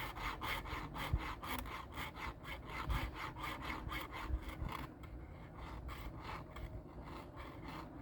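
A hand file rasps rhythmically over the rakers of a Husqvarna 460 chainsaw chain out in the woods, with steady back-and-forth strokes, close and fairly quiet, with no talking.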